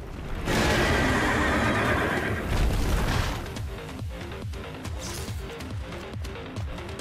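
A horse neighs loudly in the video game Stellar Blade, a long whinny up close, followed by rhythmic clip-clop hoofbeats and game effects.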